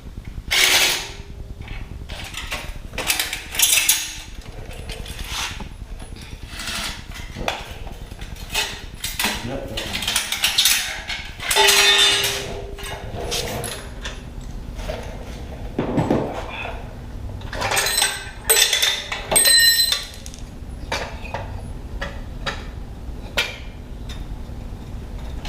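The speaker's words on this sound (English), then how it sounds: "I'm just going to go ahead and take off the heat shield" A heat shield comes off a Harley-Davidson Iron 883 motorcycle: close, intermittent metallic clicks, ratcheting and clanks of tools and loosened fasteners, in irregular bursts with quiet pauses between.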